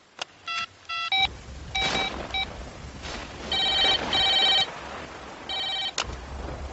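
Telephone dialing: a rapid series of keypad tones and beeps in uneven bursts, followed by ringing tones, close and clear with no talking.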